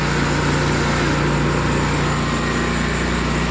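The faulty motor of a sawmill runs loud and close, a constant rough engine drone with a steady rumble and no pauses.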